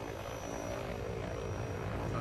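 A helicopter in the video game Call of Duty drones steadily with a continuous rotor and engine hum, moderately faint and unbroken, with no talk over it.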